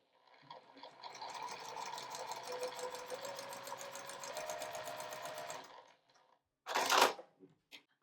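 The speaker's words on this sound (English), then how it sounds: "you're going to turn and do a line of stitches along the other side" A sewing machine stitches a straight line across a quilt block in one steady run of about five seconds, then stops, followed by a short loud rustle and a faint click.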